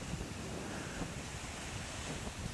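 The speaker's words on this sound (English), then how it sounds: "As the waves come in and return" Ocean waves roll in and wash back over a beach strewn with small balls of dispersed oil, a steady broad surf wash blended with wind buffeting the microphone, no voices.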